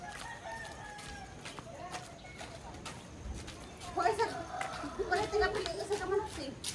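A rooster crows in the background amid outdoor ambience, with people chatting nearby and clucking-like calls rising toward the end.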